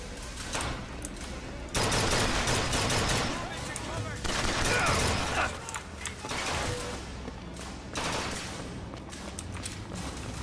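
Rapid gunfire from a crank gun in the video game Bioshock Infinite, dense bursts of shots crackling loudly through most of the stretch with brief lulls, mixed with other game noise and some talk.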